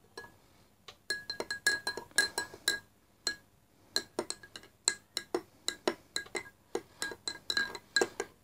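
A spoon stirs ginger juice and mint powder in a glass, giving rapid, bright clinks against the glass in quick irregular runs, close and clear, with short pauses between bursts.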